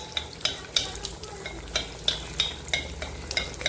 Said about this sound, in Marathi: आणि आता तळून द्यायचं